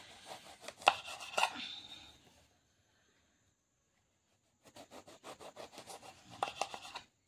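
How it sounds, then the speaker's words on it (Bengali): A knife chopping through a young, tender eggplant: two bursts of quick, crisp cuts against a board, a few sharper knocks among them, separated by a silent pause, close and fairly quiet. "বেগুন কেটে নেবো।"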